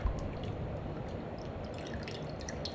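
Water drips and trickles from grated old potatoes as they drain, a faint, close patter of small droplets under a soft wet hiss, growing slightly busier toward the end.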